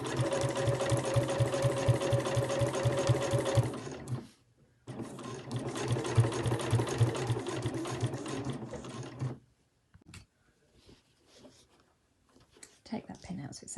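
A sewing machine stitches binding onto a sewing machine cover in two steady, close runs of rapid rhythmic whirring, pausing briefly between them and stopping near the end, where a few faint handling sounds follow.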